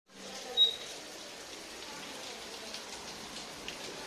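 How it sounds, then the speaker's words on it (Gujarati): Steady rain falls outside a home at night, a soft continuous patter with a brief louder splash early on and no voices. "બહાર તો વરસાદ આવે છે."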